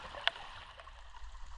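A river in the wilderness near Federation Peak, Australia, swollen about six inches after rain, flows with a steady broadband rush and low gurgle, with one brief splash or knock near the start and no speech.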